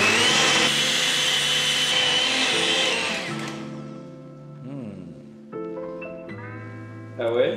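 Blender whirring loudly as it purées hot sauce ingredients, a dense steady roar for about three seconds that then cuts out, followed by softer stop-start pulses and rising whines.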